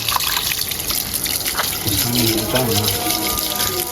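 Tap water runs steadily into a basin during washing, a continuous close splashing gush with a faint voice underneath.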